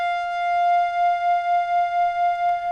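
Steady synthesizer tone with a detuned second oscillator and heavy reverb, a single sustained pitch with slow beating that swells gently, ending with a brief soft noise burst near the end.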